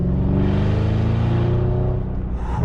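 An Audi S8 D4 engine roars loudly and steadily, heard from inside the car with the sunroof slightly open, a deep throaty rumble that wavers slightly as it revs.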